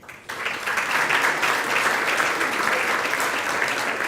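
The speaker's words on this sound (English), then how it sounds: "let's give a round of applause to all the recipients in our postdoctoral awards category." Loud, dense applause for postdoctoral award recipients at a university research awards ceremony bursts in after a brief quiet moment and carries on steadily, an audience clapping together without any talk.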